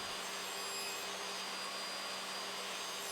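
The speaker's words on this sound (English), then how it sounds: "once the glue had dried, it was back to the table saw again" Table saw cutting through a glued-up herringbone tabletop of beech and mahogany, a steady, loud broadband whine holding constant for the whole stretch with no pauses and no voices.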